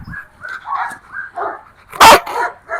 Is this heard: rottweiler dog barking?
yes